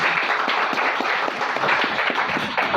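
Guests at a Filipino wedding ceremony clap together in a steady, dense round of applause that holds at an even level throughout.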